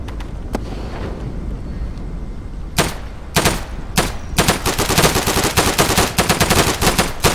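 Gunfire in the Day of Infamy video game, beach battle, with a semi-automatic rifle: scattered sharp shots at first, then dense rapid bursts of firing over a constant rumbling battle background, loud and close.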